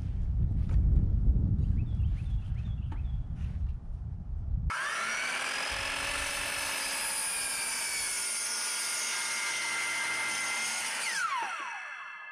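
A power saw cutting wooden wall studs for a pole barn house wall: a sustained whining cut of about six seconds, near and steady, after a stretch of handling noise and knocks.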